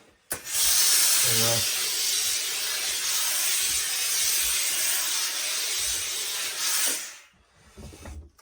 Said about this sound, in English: So line it up again, use a bit of steam, just freshen it up.